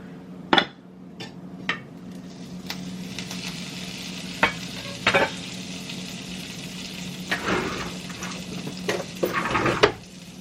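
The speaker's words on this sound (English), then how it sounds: "I'm going to get some butter and put it in the pan." Butter sizzles in a frying pan for French toast, a steady close hiss running throughout, broken by sharp scattered clinks and scrapes of a utensil against the pan.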